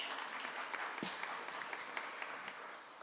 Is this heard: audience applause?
yes